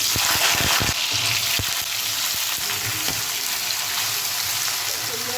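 Potatoes dropped into hot oil and frying for an egg peas curry, a loud, bright sizzle that holds steady after a few sharp clatters at the start, with a voice speaking over it.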